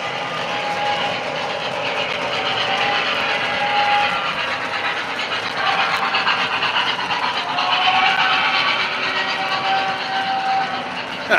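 An MTH O scale model train rumbles past with a rising and falling engine roar, steady and fairly loud throughout, with faint tones sliding across it as it passes.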